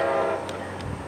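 Southbound freight train BLF 723 at a rail junction sounds its horn, a steady sustained blare that fades off after half a second, followed by faint rumbling and clanks of the passing cars.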